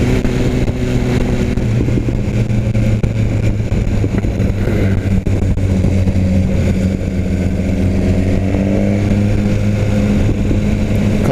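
A BMW S1000 R motorcycle engine hums steadily during a test ride, a loud sustained drone with rising pitch toward the end as it accelerates, with wind noise and no talk.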